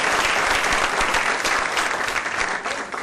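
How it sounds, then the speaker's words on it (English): Audience applause at a Hispanic Scholarship Alliance event, a dense, steady clapping from a full room that carries on without pause for about three seconds. "Big round of applause."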